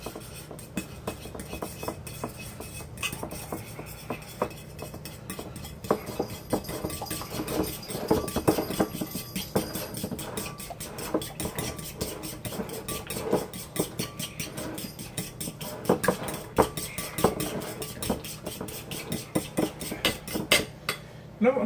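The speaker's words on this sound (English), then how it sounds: "Let's get a fork and whisk this together" Fork whisking ingredients in a bowl, a long run of rapid, rhythmic metal-on-bowl clicks and scrapes, close and moderately loud, with no talking.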